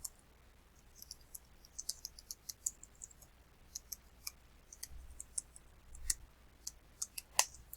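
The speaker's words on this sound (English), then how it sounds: "you may enjoy watching me type" Computer keyboard typing, heard as quiet, irregular clicks of individual keystrokes spaced through the stretch with short bursts, with no talking.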